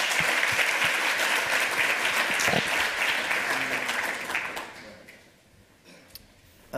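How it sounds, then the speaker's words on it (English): Audience applause at a tech conference lightning talk, a dense burst of clapping from a crowd that swells for several seconds, then thins to a few scattered claps at the end. "Give him a round of applause."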